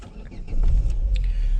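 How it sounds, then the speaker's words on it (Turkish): A Renault Laguna 1 with a 2.0 engine cranks and starts, its low rumble swelling midway and settling into a steady, close idle with no talking. "Şöyle bir marşımıza basalım."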